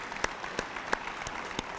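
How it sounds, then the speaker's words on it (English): Steady audience applause at the 2024 East High Ring of Honor ceremony dinner, honoring the cook who prepared the meal; dense, even clapping with a few sharper individual claps standing out, with no talking. "Let's give Miss Bryant a round of applause."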